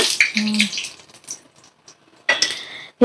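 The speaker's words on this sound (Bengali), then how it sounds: "এবার আমি একটা প্লেটে বড়াগুলোকে তুলে নিচ্ছি।" Fried greens fritters are lifted onto a plate with short clinks and scrapes of utensil on dishware, separated by quiet gaps, close and fairly loud.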